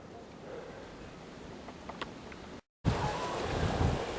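Creek water rushes steadily outdoors on a wooded trail, a broad continuous wash with wind buffeting the microphone, broken by a brief dropout, then louder and fuller flow close by.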